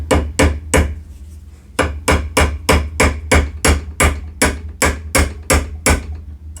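A roll pin is hammered into the latch of an M7 bayonet, giving about sixteen sharp, close metallic strikes in a steady, quick rhythm after a brief pause near the start.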